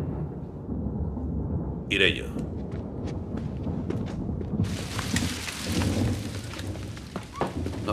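Heavy rain pours steadily in a Maigret detective drama scene, with a sharp thunder-like burst early on and the downpour growing louder midway, while a voice speaks briefly.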